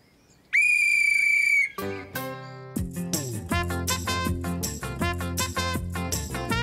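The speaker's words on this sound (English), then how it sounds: "Next time I'll lend you my whistle." A cartoon whistle blows one long, loud, steady shrill note before music starts up, with lively cartoon sound effects and tune carrying on after it.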